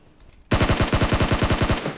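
A rapid automatic burst of gunfire in the mobile battle royale game BGMI, about a dozen evenly spaced shots in quick rhythm, loud and close, starting abruptly after near silence and cutting off cleanly.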